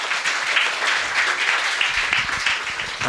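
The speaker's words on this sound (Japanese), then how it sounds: "拍手お願いします" A seminar audience breaks into continuous, even applause, a dense crackle of many hands clapping at once for the whole stretch, with no one speaking over it.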